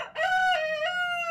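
A farm rooster crows loudly and close by, one long, strained cock-a-doodle-doo that fills the whole moment, with no talking over it.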